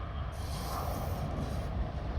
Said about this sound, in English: There's a tram coming